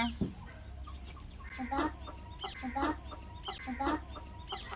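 A hen clucks in repeated short bursts, close by and moderately loud, over a low steady background hum.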